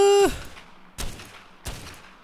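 Gunshots in ARK fired down from above at giant scorpions: three separate sharp reports roughly a second apart, each with a short decaying tail.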